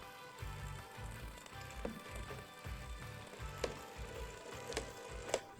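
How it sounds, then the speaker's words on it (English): Brownie batter of cocoa powder and sifted cake flour is whisked in a bowl, giving a steady, soft, rhythmic series of strokes at close range with a few sharper clinks and no voices. "We have finished with the whisking."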